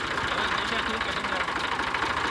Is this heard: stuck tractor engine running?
yes